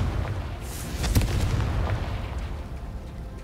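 A Confringo fire spell bursts in Hogwarts Legacy, a rumbling explosion with a few sharp crackling pops, fairly close and loud, trailing into a low lingering roar without speech.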